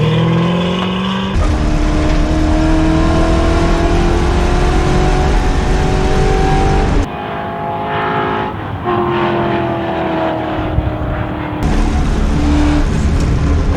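Ford Mustang race car driven hard around a race track, its loud engine roaring close up and climbing in pitch through the gears, with brief drops between shifts and no talking.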